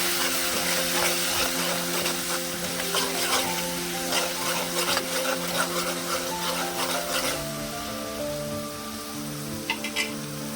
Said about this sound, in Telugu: ఇప్పుడు చింత పులుసు యాడ్ చేస్తానండి.